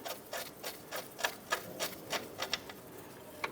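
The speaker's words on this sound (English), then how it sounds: "Let's go ahead and remove the nut." A ratchet backs the nut off a 1993-1997 Ford Ranger radius arm, giving a quiet run of about a dozen evenly spaced clicks, close and alone with no talk.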